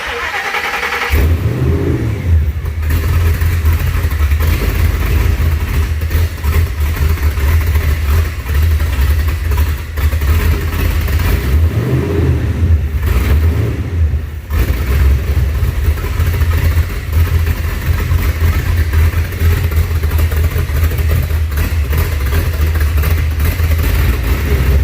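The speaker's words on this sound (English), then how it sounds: "So we're gonna start it for the first time." A Ford SVT Lightning pickup's newly installed engine cranks and fires for the first time, then runs loud and close with repeated revving and a brief dip midway.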